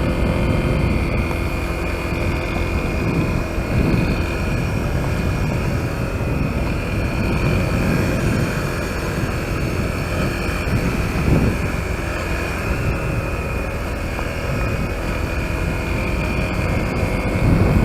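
A Honda CRF250L dual-sport motorcycle riding in gear on a rural road, a continuous engine drone mixed with rushing wind noise, steady and fairly loud throughout.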